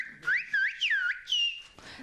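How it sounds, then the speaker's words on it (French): Children whistling in a traditional whistled language, several rising and falling whistled phrases in quick succession, clear and fairly close, with a faint murmur of people in the background. "Je suis très ému de voir ces enfants siffler."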